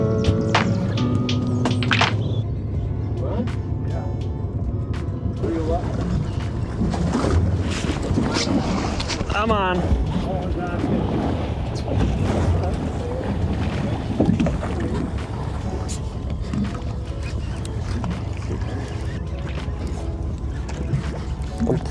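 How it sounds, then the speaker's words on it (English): A fishing boat motors out to sea toward a fishing spot, with loud, continuous engine drone mixed with wind buffeting the microphone and water splashing against the hull. "With bait in the boat, we head out to our first spot."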